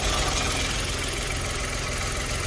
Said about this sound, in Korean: 여기 올캡을 열면은 버버버버 할 거예요